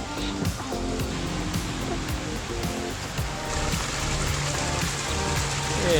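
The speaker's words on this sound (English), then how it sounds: "Looks like I'm starting to get rained on a little bit." Light rain falls at a seaside resort hotel in Hua Hin during rainy season, a steady close patter and hiss of drops on surfaces that continues evenly and grows slightly louder toward the end.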